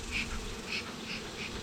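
Honey bees swarm around an open hive in the late afternoon, a continuous close buzz with agitated, rising and falling pitch as individual bees pass near.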